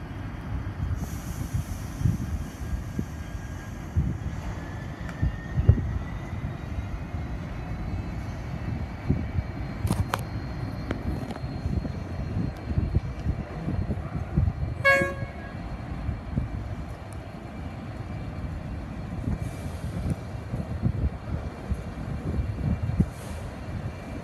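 A train led by four locomotives pulls away with a low, rumbling engine drone throughout, broken by short horn toots near the middle and a sustained tonal horn blast around the midpoint, heard from trackside at moderate distance.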